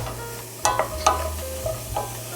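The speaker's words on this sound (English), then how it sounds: "So the mushrooms are getting warmed up." Mushrooms warming in a pan, with a soft steady sizzle under a few sharp scraping stirs, close and alone with no talking.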